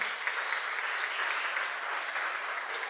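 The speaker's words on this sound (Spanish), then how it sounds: "Denle un fuerte aplauso al Señor." A church congregation gives the Lord a loud, sustained round of applause at the close of a service, with thick, even clapping throughout and no voices on top.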